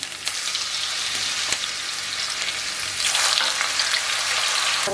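Homemade potato chips fry in hot oil with a steady, dense sizzle and crackle, close and loud, a brief surge of bubbling partway through and no talking.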